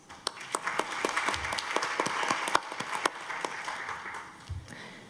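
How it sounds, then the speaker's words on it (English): Conference audience at a development forum applauding to welcome Peru's Vice Minister of Industry and Small and Medium-Sized Enterprises, with moderate, sustained clapping made of distinct sharp claps over a softer background that tapers slightly near the end. "A warm round of applause."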